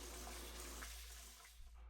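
Rinse water pours steadily off soaked rice into a kitchen sink, a continuous loud gushing wash that thins out toward the end, with no talk over it.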